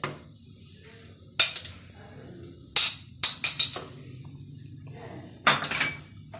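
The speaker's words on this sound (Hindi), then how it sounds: "अब इसको मिक्स कर लें" A spoon mixes chicken sandwich filling in a bowl, giving about half a dozen sharp, close clinks and scrapes against the dish at irregular intervals, with quiet pauses between and no talking.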